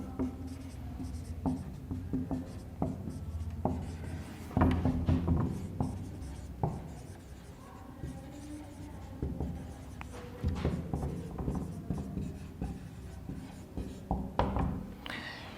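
Pen or pencil writing on paper, close and fairly loud, with continuous scratchy strokes broken by small taps and pauses, no talk over it.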